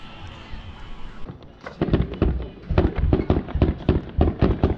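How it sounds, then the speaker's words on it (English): Fireworks launched from a barge off a beach explode in a rapid series of loud, booming bangs that follow a quieter stretch of faint background murmur. "Fireworks."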